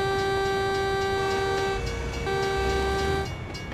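A train horn in American Truck Simulator sounds a long, steady, loud blast with a short break, over rumbling road and rail noise.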